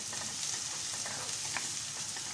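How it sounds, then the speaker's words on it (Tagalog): Ginger garlic paste frying in a pan, a steady close sizzle with faint crackles and small spatters popping over it, no voices. "nilagay ko na ang ginger garlic paste. Kailangan ma-fry siya ng maayos para maganda yung amoy niya."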